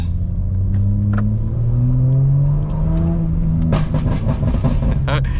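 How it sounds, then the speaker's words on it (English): A loud BMW G82 M4 engine rumble shifts pitch as it revs and eases off, then breaks into a rapid burst of crackling, popping exhaust burbles, tuned on MHD. "I'm going to show you how the M4 burbles"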